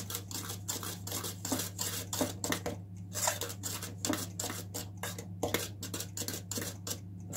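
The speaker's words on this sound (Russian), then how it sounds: "Вмешиваю пудру." A spoon stirring powdered sugar into a gelatin-based lemon glaze for an Easter kulich, giving repeated soft scraping and clinking strokes at a steady rhythm, close by and fairly quiet over a constant low hum, with no talking.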